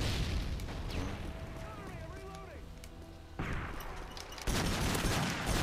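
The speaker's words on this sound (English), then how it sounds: "you just threw a grenade like an asshole" A grenade goes off during a Call of Duty match, with sharp explosive bursts and gunfire from the game. Loud, dense blasts come in waves, with a heavy burst near the end.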